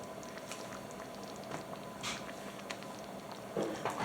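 Taco soup simmering in a pot, with soft, close bubbling and gentle popping in an uneven patter, growing a little louder near the end.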